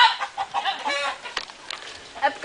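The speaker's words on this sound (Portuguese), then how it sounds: "Vai, Karina Bach, Tiziano Pinheiro, correndo atrás dos pintos, sem pular" Chickens cluck and squawk in agitation as people chase them during a lively outdoor gathering, with shouting voices and commotion mixed in.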